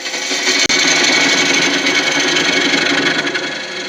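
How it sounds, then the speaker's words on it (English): A small spindle gouge hogs away wood on a lathe while turning a natural edge clock, giving a loud, continuous rough scraping and rasping with one brief dropout near the start. "I'm just using a little spindle gouge here just to hog away some wood"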